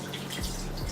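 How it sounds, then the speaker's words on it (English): Water splashing as a face is rinsed at a sink, a short soft trickle with a couple of drips, close and alone. "I'm gonna rinse it off."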